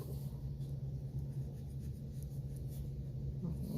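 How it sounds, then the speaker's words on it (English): Chalk pastel blended across paper with a fingertip makes a soft, steady close-up rubbing hiss that continues without pause over a low background rumble. "And I'll put a little more chalk along the bottom edge. I'm blending away with my finger so it fades out."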